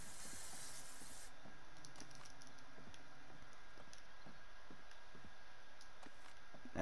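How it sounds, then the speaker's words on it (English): Bug spray hisses out of an aerosol can in one short, sharp burst of under a second at the start, followed by quiet scattered clicks and handling noises. "I'm gonna throw this bug spray on."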